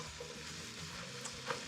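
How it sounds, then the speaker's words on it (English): Vegetables and garlic are stirred in brown butter in a pan, a faint soft sizzle with a few light scraping touches of the spoon, quiet and close with no talking. "I'm gonna stir these around just to coat them"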